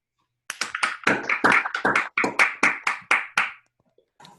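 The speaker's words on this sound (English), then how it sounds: "So let's give Jana another round of applause." A small group claps to close an online astrophysics seminar: roughly a dozen distinct, fairly loud hand claps in quick uneven succession, then it stops, with no talking.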